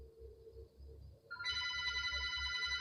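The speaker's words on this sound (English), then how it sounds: "another phone begins to ring." A telephone starts ringing, a loud, steady electronic trill that enters partway through and keeps going, with a faint low rumble beneath it.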